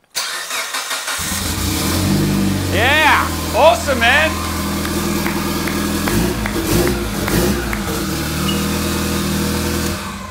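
A Mitsubishi Evo's engine cranks and catches, then idles loudly with a few revs, while people cheer and talk over it.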